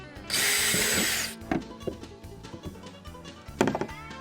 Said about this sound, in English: I'm gonna go ahead and drill the hole through here.